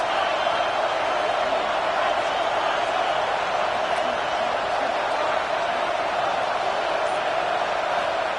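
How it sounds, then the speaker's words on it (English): Football stadium crowd roaring in support of the defense on a third down in the red zone, a dense steady wall of distant cheering sustained evenly throughout, with no distinct voices. "this crowd is getting behind this defense"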